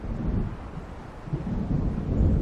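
Deep rumbling thunder rolls continuously in an approaching storm in Alan Wake Remastered, low and swelling louder toward the end, with no voices.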